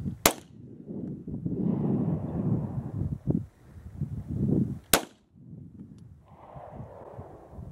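A rifle is fired at targets outdoors in the snow: two sharp, loud gunshots several seconds apart crack out over gusty wind noise and low rumbling background sound.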